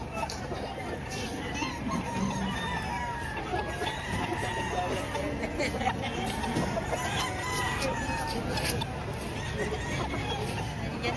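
Chickens cluck and roosters crow amid a busy crowd at a Tuesday chicken market in Padre Garcia, Batangas, with people talking nearby throughout.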